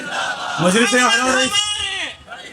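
Crowd at a Khatm-e-Nabuwwat religious gathering chants a slogan back in response to a call, many voices shouting together loudly for about two seconds.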